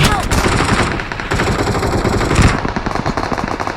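Rapid automatic gunfire from a video game shooter, a dense, loud string of bursts running almost without pause, with a player's voice faintly mixed in.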